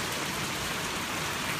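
Steady rain pours down outside while water from a leaking roof drips onto an indoor floor, a continuous close hiss of falling water with no voices.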